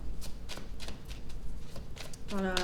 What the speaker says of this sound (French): On va tirer une carte pour le lien.